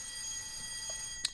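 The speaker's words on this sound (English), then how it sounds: "That's a fire alarm. Don't worry about that. It's a test." A fire alarm test sounds as a faint, steady, high-pitched electronic tone held throughout. A quiet room sits underneath, with a brief click near the end.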